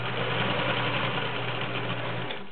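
A vintage 1980s Kenmore model 1781 convertible sewing machine runs steadily, stitching through five layers of woven upholstery fabric with a rubber backing, giving a close, continuous motor hum that eases off at the end.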